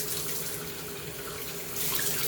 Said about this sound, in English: you can see right now the water is starting to run out a little bit clearer